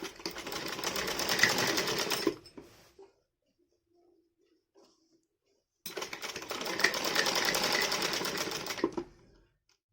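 A sewing machine stitches a salwar waistband in two close, rapid bursts of whirring needle strokes, separated by a few seconds of near silence.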